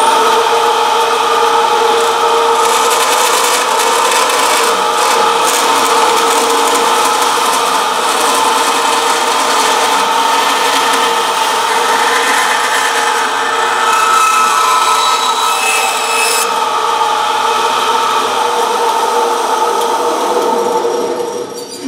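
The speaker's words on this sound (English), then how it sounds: "So I'm just gonna grind away all this stuff up here." A power grinder works down a guitar nut, producing a loud, continuous abrasive whine that holds steady for a long stretch before cutting off at the end.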